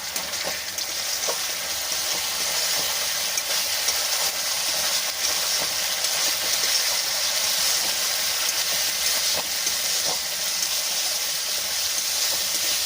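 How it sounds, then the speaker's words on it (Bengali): Masala spice paste frying in a pan with a little water, giving a steady, close sizzle and hiss throughout with faint stirring scrapes, no voices. "এই মশলার মধ্যে সামান্য জল দিয়ে দিচ্ছি যাতে মশলাটা পুড়ে না যায়। এইভাবেই কষতে হবে।"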